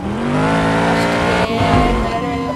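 Engine of a car in a realistic driving video game, a loud, steady, buzzing rev that briefly dips and then climbs again as the car heads for a jump.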